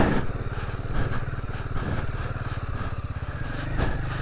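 A Royal Enfield Himalayan 450 motorcycle rolls downhill, its engine a steady close low throb with a fast pulsing beat and some clatter, running continuously without talk.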